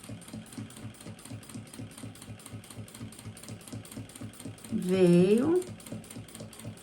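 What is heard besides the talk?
sewing machine stitching bias binding on makeup bag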